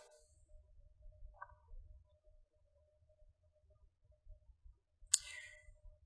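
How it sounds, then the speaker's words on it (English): Two or three soft, isolated mouse clicks while working in a web interface, faint and well spaced over a low background hum. "clicking on the status column here"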